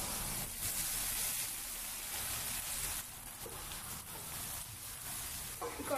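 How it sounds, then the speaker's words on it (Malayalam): Rice fries in ghee in a pan while mutton dum biryani is being made, giving a soft, steady sizzle and hiss at low volume throughout, with no talking. "ഈ റൈസ് ഒന്ന് ജസ്റ്റ് ആ ഗീൽ ഒന്ന് വറുത്തെടുത്താൽ നമുക്ക് കുറച്ചുകൂടെ നല്ലൊരു ഫ്ലേവർ കിട്ടും"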